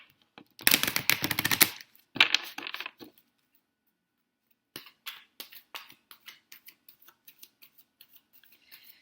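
A Doreen Virtue Romance Angel oracle deck shuffled by hand: a quick riffling burst, a shorter second flutter, a pause, then a series of soft, irregular card taps and slides, close and fairly quiet.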